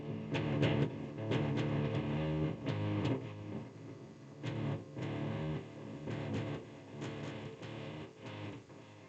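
Distorted electric guitar power chords, a dense, gritty chugging riff with rhythmic accents, moderately loud throughout and without talk.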